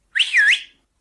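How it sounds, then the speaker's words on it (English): A single shrill whistle is blown to call in a horse, rising then dipping in pitch over about half a second, loud and alone. "At the sound of the whistle,"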